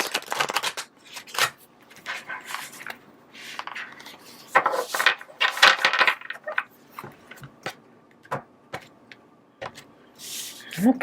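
Oracle cards from the Moonology Manifestation Oracle deck being shuffled by hand, a run of crisp papery riffles and flicks in uneven bursts, close and fairly quiet, with a few small knocks.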